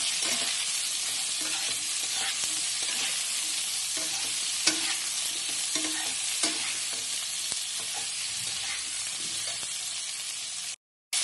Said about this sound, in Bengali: আলুটা সয়াবিনটা আরেকটু ভাজা ভাজা করবো